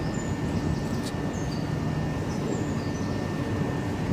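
Two Southeastern Class 375 electric units, 375-811 and 375-828, pull out of Bromley South station as a 12-coach train, giving a steady low rumble with faint high squeals throughout.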